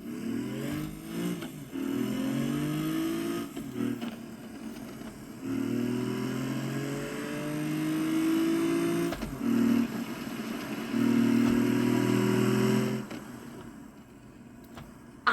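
A sprinter car engine fitted with nitrous and anti-lag revs hard in several rising bursts, dropping back briefly between pulls and fading at the end, loud and close with no talking.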